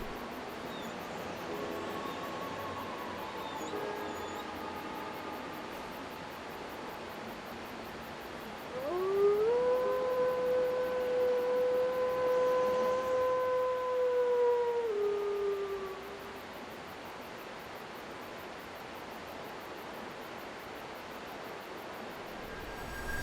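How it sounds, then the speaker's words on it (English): The great wolf Sif from a video game lets out one long mournful howl, rising, holding a steady tone for several seconds and then falling away over quiet ambient background. "Sif will slowly approach and let out a mournful howl of recognition"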